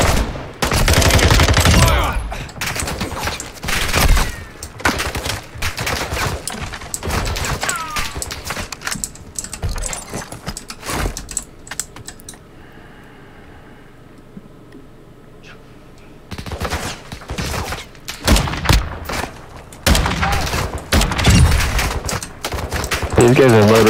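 Rapid bursts of automatic gunfire in the online shooter Call of Duty DMZ, loud and dense, with a quieter lull in the middle before the shooting resumes, while players talk over it.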